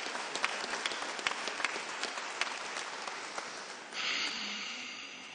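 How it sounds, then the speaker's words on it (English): Sustained applause from the audience at a Veterans Day ceremony in Phoenix, steady and dense with scattered louder claps, shifting to a brighter, more even wash near the end. "Another round of applause"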